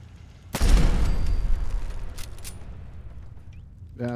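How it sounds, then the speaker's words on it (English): A loud, close explosion booms in the video game Fallout 4, a sharp blast followed by a long rumbling decay with debris crackles, then a faint click at the end. "don't mind that fucking loud explosion either."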